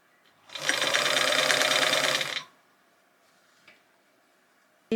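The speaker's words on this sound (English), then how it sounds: "I'm just going to do it by pushing them like that and sewing them down as I go" A sewing machine runs in one short burst of about two seconds, stitching down pleats to ruche fabric, a fast, even mechanical whir, followed by quiet with a faint click or two.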